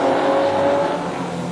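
Nostalgia sedan race cars in a final at Carina Speedway, 2022, with engines roaring at a loud, sustained high pitch as they run laps, then easing slightly as the pack passes.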